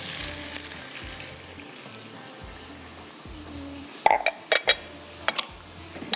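Raw mutton or beef meat drops into a pan of lightly fried onions, giving a steady frying sizzle with a few sharp clatters and hisses toward the end, fairly close and moderate in level.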